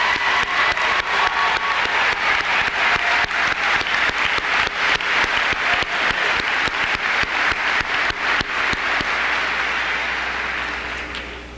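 A commencement audience applauds the graduating class of 1999 with loud, dense, sustained clapping from a large crowd, steady for about ten seconds before easing off slightly at the end.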